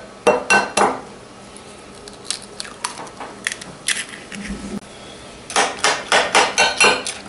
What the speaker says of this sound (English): break up the yolk, stir that up a bit.